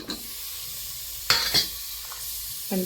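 Chopped tomato sizzles and fries in a pan for a chicken curry, a steady close hiss broken by a few sharp stirring scrapes and clatters.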